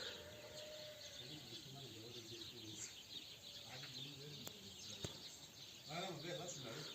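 Birds chirping and calling up close, with a steady patter of rain behind them and occasional short bursts of call notes over the constant background.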